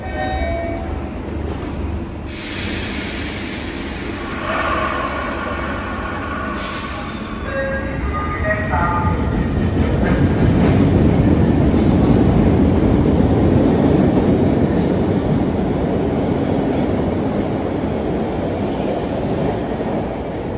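An old Boston subway train of 1969 Pullman Standard cars rumbles along the rails, wheels clattering and squealing as the steady roar builds and holds for a long stretch.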